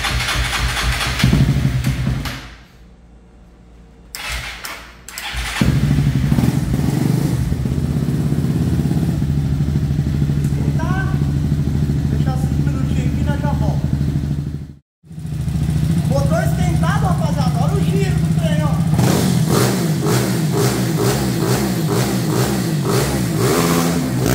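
A modified Honda CG 160 motorcycle revs hard and climbs through the gears, its engine roaring loud and close almost throughout, with a brief dip near the start and a sharp cut mid-run before it winds up again.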